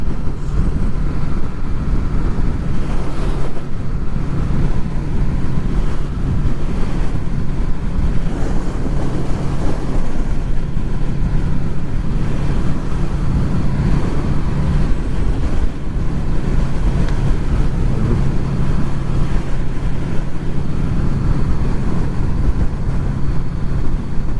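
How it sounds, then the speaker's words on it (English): Strong wind buffets a hilltop beside a Honda VFR800, a loud, continuous roar of gusts against the microphone that never lets up and has no talk over it. "you can feel the wind up here"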